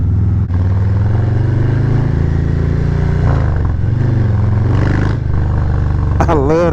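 A Harley-Davidson Road Glide motorcycle's engine revs and rumbles steadily up close on a road test ride, with a brief throttle blip near the end.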